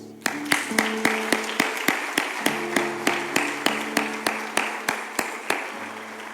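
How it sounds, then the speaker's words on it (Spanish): A church audience applauds with a steady, evenly spaced clapping beat, close and moderately loud, over sustained keyboard or organ chords that keep playing underneath. "Un fuerte aplauso a Jesús."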